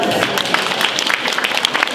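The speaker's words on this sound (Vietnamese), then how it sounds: "xin quý vị cho tất cả tất cả các vị cựu sinh viên sĩ quan trường Võ bị Quốc gia Việt Nam một tràng pháo tay thật là lớn" A loud round of applause from a banquet audience at a Northern California military academy alumni New Year's party, dense and continuous clapping from many people close by.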